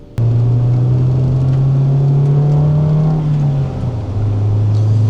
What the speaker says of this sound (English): This car starts up perfectly fine every time